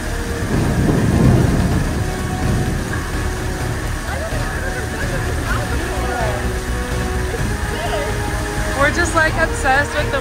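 Deep rumbling thunder rolls through steady rain, loud and low, while voices talk in the background.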